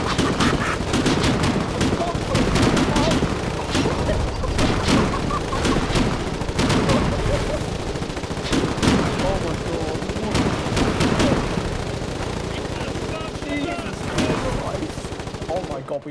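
A group opens fire together in dense, rapid volleys of loud gunshots that crack and overlap for the whole stretch, with shouted voices mixed in.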